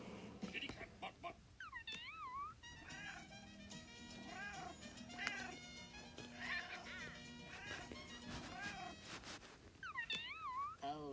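Cartoonish cat meows and wailing yowls from the Exploding Kittens video game repeat several times over background music, moderately loud, with people talking at times.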